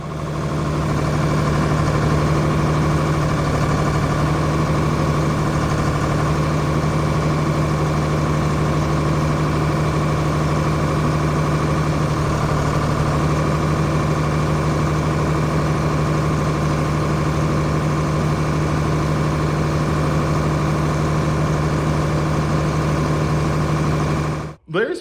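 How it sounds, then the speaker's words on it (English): A John Deere 4850 tractor diesel engine idles steadily close by while its injectors are cracked one at a time for a power loss problem, a constant droning hum with strong low tones and no clear change, cutting off abruptly at the end. "Larry starts cracking injectors, goes 1, 2, and then immediately at 3, you hear no engine differential"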